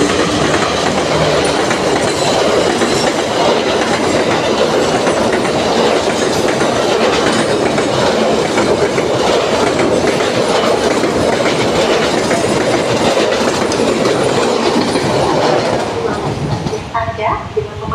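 A train rolls past near Lempuyangan and Tugu stations in Yogyakarta, a loud, close, sustained rumble with rhythmic clickety-clack of wheels over rail joints that eases slightly at the end.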